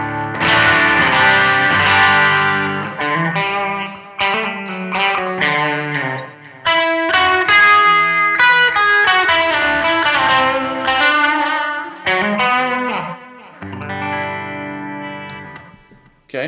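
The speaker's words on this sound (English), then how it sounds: "that's the room reverb" An electric guitar plays chords and melodic lines through a NUX Amp Academy direct amp unit set to room reverb, with a roomy reverb tail ringing after the notes.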